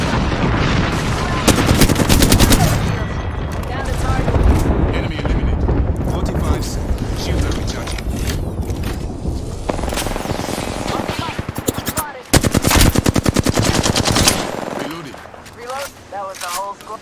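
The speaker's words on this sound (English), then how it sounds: "airstrike." Airstrike blasts and rapid gunfire fill a video game firefight: dense, loud bursts of shots and heavy booms run almost continuously, with a brief drop near the end before another loud volley.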